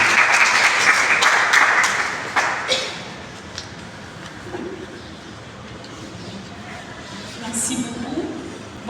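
An audience at an awareness conference on the inclusion of women with albinism claps loudly for the first few seconds as a coordinator is invited forward. The applause fades after about three seconds, leaving quiet room noise and faint movement.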